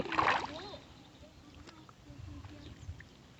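Bundles of water spinach tossed into a tilapia fish pond make a brief splash near the start, followed by quieter lapping water and outdoor ambience.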